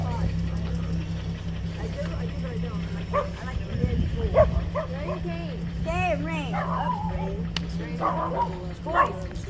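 A small dog yips and whimpers in short bursts across the clip, mid-distance, with a steady low hum and people talking over it.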